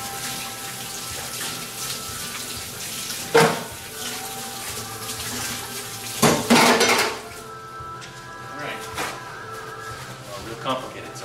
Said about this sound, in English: I'm a big fan of just doing the rinsing as you go